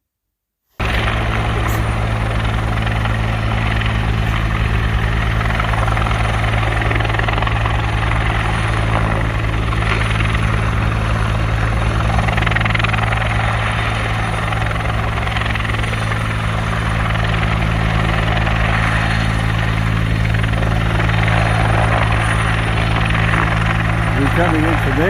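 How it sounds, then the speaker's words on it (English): Rescue helicopters flying over a flooded town in Eugowra, a loud continuous rotor thump and engine drone that holds throughout, with people talking over it. "We watched the helicopters coming and going."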